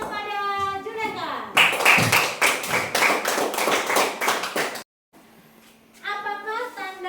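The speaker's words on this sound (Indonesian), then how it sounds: "Kasih tepuknya kepada Juleka." A classroom bursts into about three seconds of lively clapping for a student, many hands at once, with a teacher's and children's voices speaking before and after the applause.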